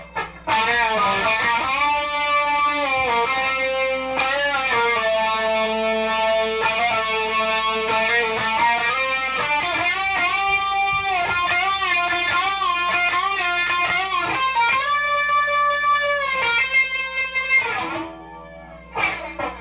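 A distorted electric guitar plays a song's solo lead line with bending notes and sustained tones, continuous for most of the stretch before trailing off near the end.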